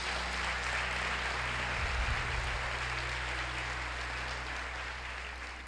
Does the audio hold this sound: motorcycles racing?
no